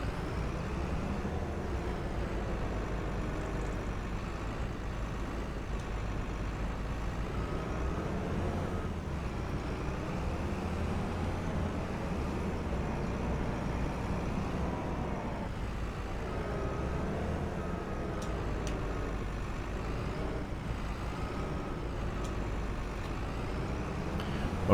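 Steady rumble of road traffic with trucks and cars passing in the video game Farming Simulator 25, a continuous engine drone with an occasional air-brake hiss, no talk.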